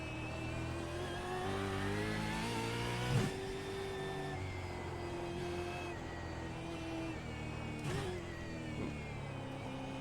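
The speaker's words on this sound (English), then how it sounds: "Downshifted without blipping, almost sent me" A Supercars race car in iRacing at the Detroit Belle Isle street circuit, its engine droning steadily at high revs, then dropping in pitch through abrupt downshifts with sharp gear-change jolts, close and continuous.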